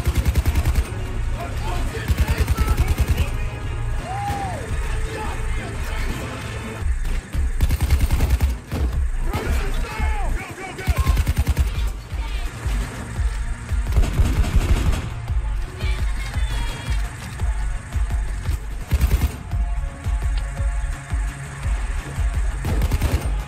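A Thanatos rifle in the video game Payday 2 fires in booming, widely spaced shots, each a loud heavy blast. Other game noise carries on between them.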